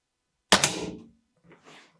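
A Weihrauch HW57 air rifle fires a single JSB Exact 8.44 grain pellet with a sharp, close crack, followed a second later by faint, soft knocks.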